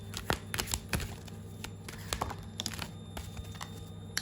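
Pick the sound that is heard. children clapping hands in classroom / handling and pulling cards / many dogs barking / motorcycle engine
handling and pulling cards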